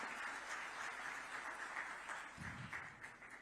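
An audience at a government workshop in Raipur claps to welcome the chief minister, a steady wash of applause heard from some distance at modest volume.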